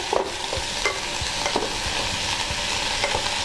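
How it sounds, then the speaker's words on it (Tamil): Coriander is sautéed in a pan, a continuous close sizzle broken by regular scraping stirs of a spoon, roughly every half second, with no voices. "நல்லா இந்த மல்லி வந்து ஒரு 2 நிமிஷம் கொஞ்சம் லேசாக வதங்குற வரைக்கும் வதக்கணும்."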